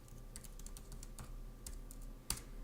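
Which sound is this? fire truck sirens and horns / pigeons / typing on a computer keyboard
typing on a computer keyboard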